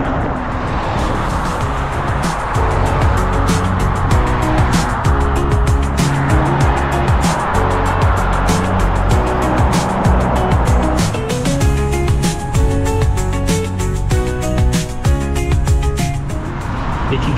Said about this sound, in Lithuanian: Nesuprantu, iš kur visos šitos fūros pasipylė